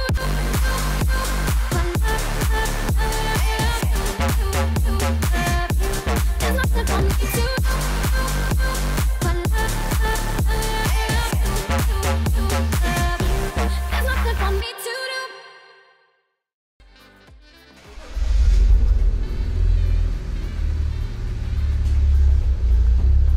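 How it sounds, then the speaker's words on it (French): BMW 325i E92 engine idling and pulling forward a short way, a close, loud rumbling drone with a steady pulsing rhythm, then a brief near-silent gap before the low running noise returns. "On va avancer un petit peu la voiture à la lumière"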